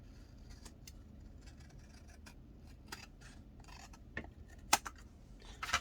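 Scissors snipping thin paper slivers during card crafting give a scattering of quiet close snips and small scraping rustles, with a few sharper clicks near the end and no talking.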